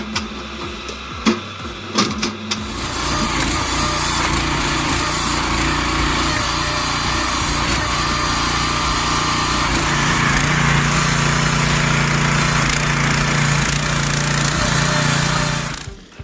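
A homemade firewood processor's engine runs at a steady, loud, buzzing drone after a few clattering knocks at the start, then cuts off abruptly at the end.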